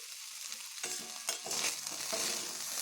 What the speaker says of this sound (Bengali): এবার আমি এগুলোকে একটু ভালো করে ভেজে নেব